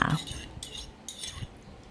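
A metal spoon clinks and scrapes against a stone mortar as water is swirled in it, with short bursts of swishing liquid and a few sharp taps, close and fairly loud.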